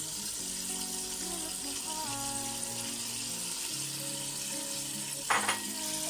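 Mutton, one and a half kilograms, fries in a pan for a mutton korma, giving a steady soft sizzle throughout while background tones hum along and a brief louder scrape or stir comes near the end.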